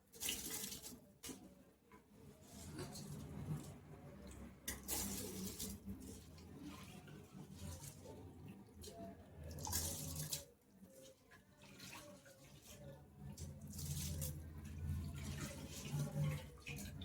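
Water pours from a tap into a pot for paneer biryani, a steady running splash that swells and dips in several bursts over about seventeen seconds, close and fairly quiet, with no speech.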